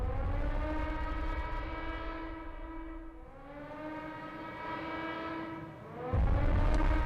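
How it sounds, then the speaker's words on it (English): Civil defense air raid sirens wail over Chandigarh, a steady rising-and-falling tone that swells, dips around the middle and climbs again, loud and sustained with a deeper rumble entering near the end. "We are told that there are sirens that are being sounded in Chandigarh at the moment."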